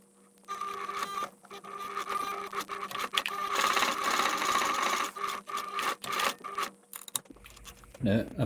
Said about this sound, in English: take that and get it sewed right down that edge, back stitching at the top